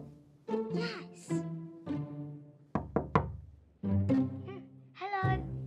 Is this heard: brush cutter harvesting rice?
no